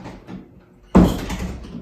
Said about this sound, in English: I have to open the door here